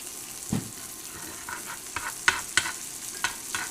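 Food frying in canola oil in a pan on an induction burner, a soft steady sizzle broken by several stirring scrapes and clicks, close up with no talking.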